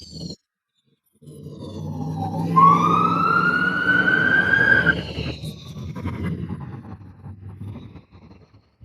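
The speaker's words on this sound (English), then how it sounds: "Some sirens being heard." Emergency vehicle siren on a Vancouver street, rising into a loud sustained wail for a few seconds, then fading under steady traffic rumble.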